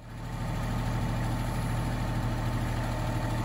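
A Kubota tractor engine runs at a steady low rumble while digging a sewer line near a big stump, close and constant with no talking.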